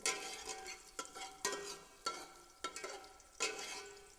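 Chopped garlic cooks in a pan for a carrot and ginger soup while a spoon stirs it. Soft scraping strokes recur every half second or so over a faint, steady sizzle.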